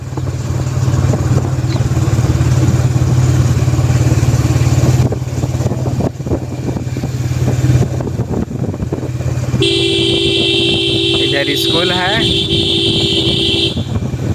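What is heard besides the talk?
vehicle horn honking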